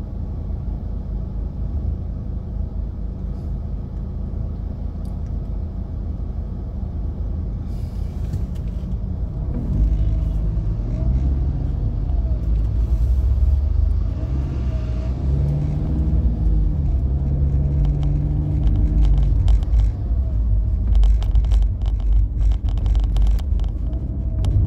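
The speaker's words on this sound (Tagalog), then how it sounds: "nagkataon na traffic tayo" Cars crawl along in a traffic jam, a steady low engine rumble filling the scene, with heavier vehicle idling and occasional revving rising midway and a faint hiss of brakes.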